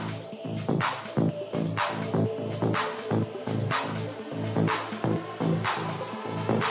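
A subtle electronic music build-up transition with auto-panned movement: a steady rhythmic pulse of short hits over a low sustained bed, moderately quiet and without voices.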